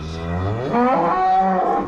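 Cattle in a farm pen after cows calved overnight: a single long, loud, close moo that rises and then holds, with no talking over it.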